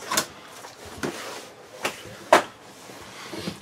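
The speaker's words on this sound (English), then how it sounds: "You've got a slider door here that shuts off" Inside a 2017 Airstream 25 FB International Signature travel trailer, a sliding door is moved, giving several separate soft knocks and thuds spread across a few seconds, with a sharper bump near the middle.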